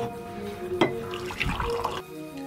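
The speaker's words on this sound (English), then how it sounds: "I'm pouring coffee." Coffee pours into a cup at an office, a steady liquid splash and trickle with a brief louder gush partway through, close and alone.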